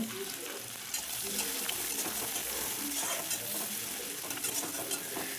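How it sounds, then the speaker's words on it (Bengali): Chopped onions frying in hot oil, a dense continuous sizzle with frequent scraping and stirring strokes in the pan, close and loud. "পেঁয়াজ কুচিটা দিয়ে পেঁয়াজ কুচিটাকে ভেজে নেব"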